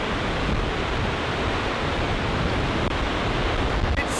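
A strong wind roars steadily through a Welsh valley near Elan Valley, a loud, continuous broadband rush buffeting the microphone with no voices.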